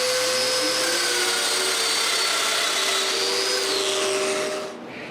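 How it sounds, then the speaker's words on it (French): A power drill boring mortises in walnut for a clock box, with a loud steady high whine and a faint shifting tone that runs continuously, then winds down at the end. "puis je les perce."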